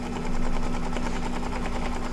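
An embroidery machine stitches down an appliqué with a fast, steady mechanical rattle. The needle drive chatters loudly and evenly at close range, with a constant motor hum underneath.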